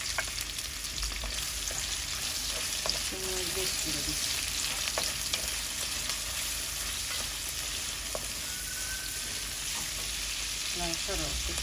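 Onion and prawns crackle and sizzle in hot oil, a steady, dense frying hiss with occasional stirring scrapes and clinks near the pan.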